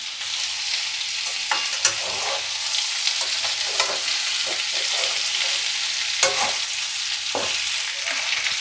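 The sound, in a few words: cashews and raisins frying in a pan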